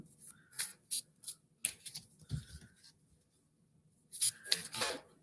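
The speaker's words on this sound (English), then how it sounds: "So let's shuffle." A deck of oracle cards is shuffled in short, quiet riffling bursts with brief pauses between, close and soft, with no talking.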